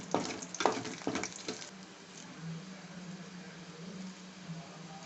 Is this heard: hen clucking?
no